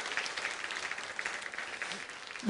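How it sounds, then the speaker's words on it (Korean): A church congregation claps together in soft, continuous applause that stays fairly distant and even throughout, and a sudden louder sound cuts in right at the end. "일단 우리 박수로 좀 해주시면 감사하겠어요."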